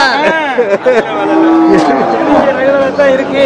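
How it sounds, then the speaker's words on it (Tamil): A Kangayam cow moos loudly and close by in a long, drawn-out call at a cattle market, with a voice speaking briefly alongside. "காங்காய மாடு நல்ல மாடு தான்."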